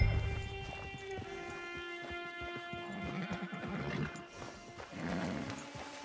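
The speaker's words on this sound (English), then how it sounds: "It's your horse." In the Red Dead Online video game, a horse neighs and whinnies over a steady bed of game music and ambience. Hoof clip-clops and snorting sounds follow, all at a moderate level.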